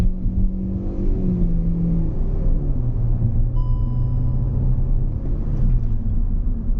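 Steady engine drone of a Hyundai i20 Sportz under acceleration, a close, continuous mid-pitched rumble that rises and levels off as the car gathers speed, heard from inside the cabin without talk.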